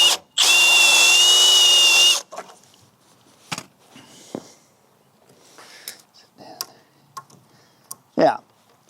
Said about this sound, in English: I'm going to go ahead and drill down there a little bit